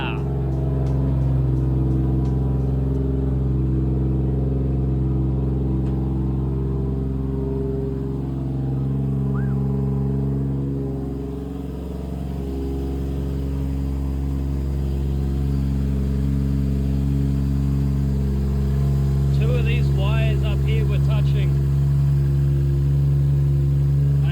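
A Toyota car's engine idles steadily after a repair, a low constant hum held throughout with slight swells, as if revving gently; faint clicks and a brief chirp sit on top, and no one speaks.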